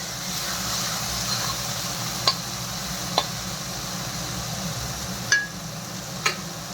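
Taro leaves fry in a covered pan with a steady, even sizzle throughout, broken by a few sharp clicks or taps of a utensil.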